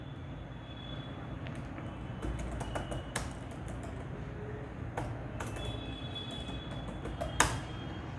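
Computer keyboard typing into a Microsoft Excel spreadsheet, quiet irregular key clicks over a steady low background hum, with one sharper tap near the end and no talk.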